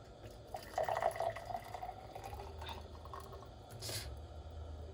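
Water is poured into a pot of boiling water while cooking ugali, giving a short splashing, trickling pour near the start that fades into soft bubbling and dripping.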